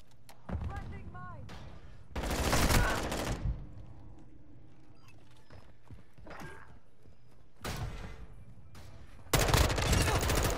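Modern Warfare II gunfire arrives in separate loud bursts: a short volley early, a longer burst, then two more later, with quieter stretches between and some speech under it.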